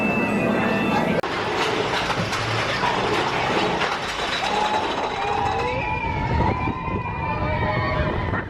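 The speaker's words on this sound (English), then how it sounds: "Big Thunder Mountain Railroad." Big Thunder Mountain Railroad theme park ride train running with dense mechanical rumble and rattle, squealing tonal whines rising near and loud throughout, with faint voices mixed in.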